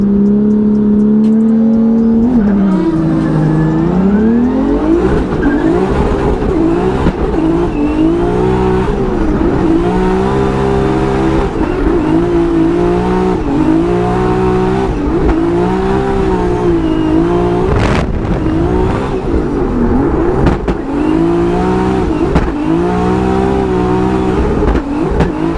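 A 2JZ-powered BMW E36 drift car on a Formula Drift lead run at Irwindale, its engine screaming loud and close, revving up and down in repeated surging waves with tire noise underneath.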